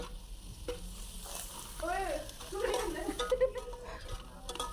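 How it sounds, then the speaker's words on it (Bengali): Meat broth and spices stirred in a pot for khichuri made with leftover rice, close scraping stirs over a light sizzle, with faint voices in the background. "এখন হচ্ছে ভালোভাবে আমি নেড়ে ছেড়ে নিচ্ছি"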